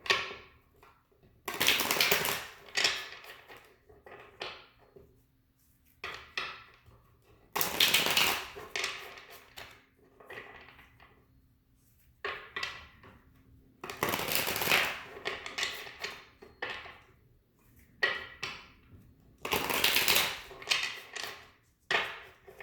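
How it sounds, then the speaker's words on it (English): Tarot cards being shuffled in several distinct bursts of riffling and flapping, separated by short pauses, fairly close and moderately loud. "I always like to shuffle a few times on camera"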